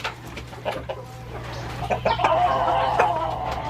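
Hens cluck and murmur in a wired backyard chicken coop, a steady scatter of short soft calls rising into a busier, louder chorus of overlapping clucks near the end, with a low hum underneath.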